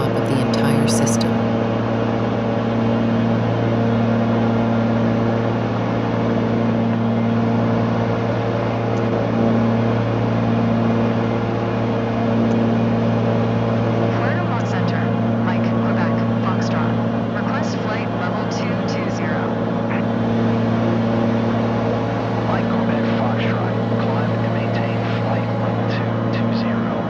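Small aircraft engine droning steadily in flight at altitude during mountain flying in Patagonia, a continuous loud hum with strong low tones and faint rustling and clicks over it.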